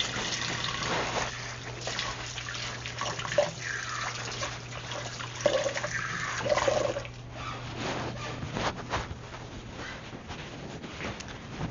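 Tap water runs steadily into a kitchen sink as hands are washed mid-cooking, a close, continuous splashing wash with small clatters and shifts in the flow, no talking.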